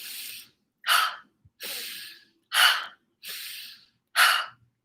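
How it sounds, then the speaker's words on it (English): Someone demonstrates a rapid diaphragm breathing exercise, six loud close breaths alternating sharp inhales and exhales in a steady rhythm. "you're breathing like that without stopping for an hour"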